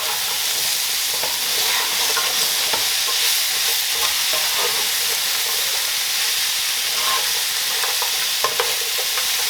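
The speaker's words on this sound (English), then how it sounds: "And we're going to stir this all together." Vegetables for chicken cacciatore, seasoned with thyme, oregano, basil and parsley, sizzle loudly in a hot pan while being stirred, a dense continuous hiss with faint scraping ticks throughout and no voices.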